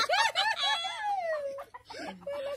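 Chickens at a home yard give off a burst of harmonic clucks and a drawn-out crowing call, close and fairly loud, with a short call returning near the end.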